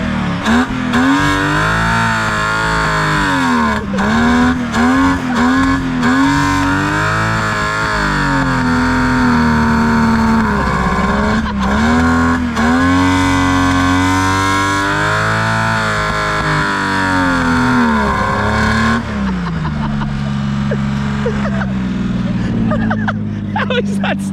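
A Ford Barra engine on nitrous, running cold with a high idle, revs loud and close in repeated rising-and-falling sweeps, harsh and distorted, before dropping back to a rough idle near the end; voices may sit faintly underneath.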